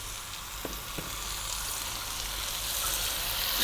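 Chopped vegetables and fresh ripe tomatoes frying in a pan for a vegetable stew, a steady even sizzle that holds throughout with a couple of faint clicks near the start and no talking.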